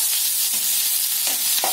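Mustard seeds, onion and green chilli temper in hot oil in a pan, producing a loud, continuous crackling sizzle with faint stirring clicks.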